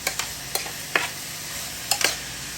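A utensil scrapes and taps against a pan while chayote is stirred with balut broth, giving a few irregular clinks over a constant, loud sizzle of frying.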